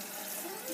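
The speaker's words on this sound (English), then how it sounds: "Fill it with water." Water running into an empty tomato can, a continuous hissing fill with a slight rising pitch as the can fills, close and steady throughout.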